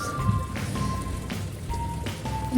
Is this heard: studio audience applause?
no